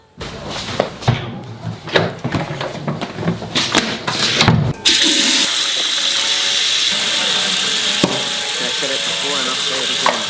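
Water runs steadily from a tap during washing up, a continuous broadband hiss after several seconds of clattering and handling noises at the start.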